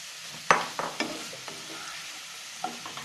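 Drumstick pieces go into sizzling masala in a pan for muringakka thoran, bringing a sharp clatter followed by scattered stirring scrapes and clinks over a steady low sizzle.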